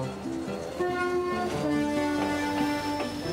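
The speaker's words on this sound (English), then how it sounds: "And diesel engines have horns that sound like this." A diesel locomotive horn sounds in a series of steady, held two-tone blasts that change pitch over a few seconds, with a busy musical backing underneath.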